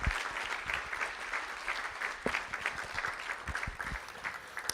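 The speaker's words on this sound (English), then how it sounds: "Let's give the Falcons a big round of applause." An audience at a school board meeting applauds an elementary student council, steady dense clapping throughout, moderately distant, with faint voices mixed in.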